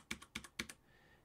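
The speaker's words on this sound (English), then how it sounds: "If I hit a key on my keyboard here, I can reduce that" Several quick, crisp clicks from a computer keyboard, close and fairly quiet, arriving in three small bursts and then fading into a faint hum.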